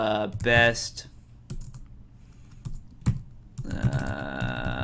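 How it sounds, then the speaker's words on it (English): Typing a keyword on a computer keyboard, a handful of separate key clicks spread irregularly across a few seconds, close by, with talk at the start and toward the end. "So you type in your keyword or your subject there"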